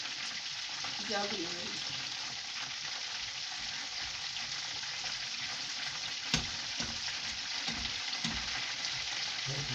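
Manti dough frying in a pan of oil, a steady dense sizzle throughout with faint stirring and a few soft knocks, close and even in level, no talk.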